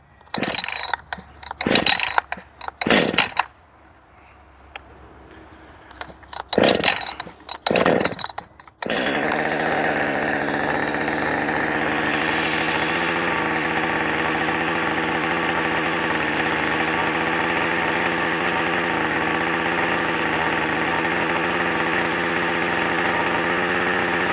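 A new Redmax GZ5000 chainsaw on its first run: a few short bursts of the engine firing and revving in the first nine seconds, then a loud, steady, continuous high idle or running drone close by, with no talk.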